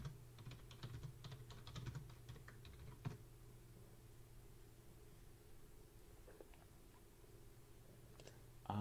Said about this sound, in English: Because I'm typing and I'm not saying anything.